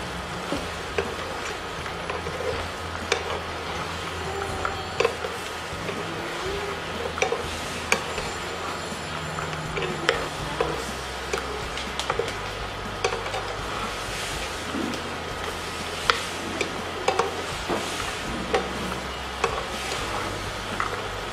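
Fried snacks are stirred through sugar syrup in a pan in a steady bubbling sizzle, with frequent spatula scrapes and light clicks against the pan, close and continuous.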